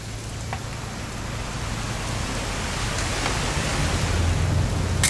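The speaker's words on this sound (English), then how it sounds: "It's going to rain the whole weekend" Steady rain hiss in a video game fills the scene, broadband and constant, with a low hum underneath and no voices.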